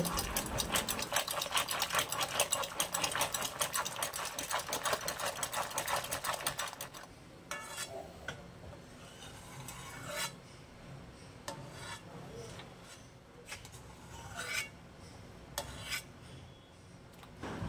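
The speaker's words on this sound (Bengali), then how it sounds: "লবণ আর হলুদ দিয়ে ঘুটনি দিয়ে মানে ডালের কাটা দিয়ে ভালো করে ঘুটে নেব" A wooden dal masher churns boiled masoor lentils with salt and turmeric, giving a dense, steady rubbing and scraping for about seven seconds before dropping to softer, intermittent knocks and stirs.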